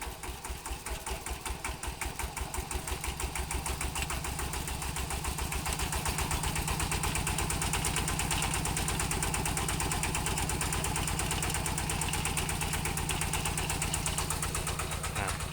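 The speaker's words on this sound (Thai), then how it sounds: "เดี๋ยวผมจะเล่งเครื่องยนต์นะครับ" An engine powering a solar-cell battery charging setup runs with a steady mechanical chug that builds as it is revved, holding a loud, even drone close by, with no talking.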